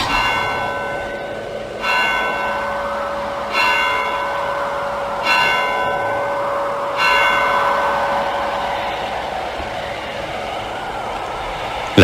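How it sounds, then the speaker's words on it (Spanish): Slow, heavy strokes of a church clock bell ring at midnight by a small gate, four strikes roughly two seconds apart, each leaving a long humming, muffled, mournful resonance that lingers between blows. "Beatriz oyó entre sueños las vibraciones de la campana, lentas, sordas, tristísimas"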